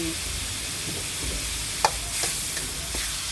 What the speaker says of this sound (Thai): ผัดกันก่อนนะคะ